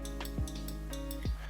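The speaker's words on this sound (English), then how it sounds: "So that is the micro switch, and we can hear it working" Two faint, sharp clicks about a second apart from the rear wiper motor micro switch in a BMW E39 Touring trunk lid, small and mechanical, over a quiet electrical hum.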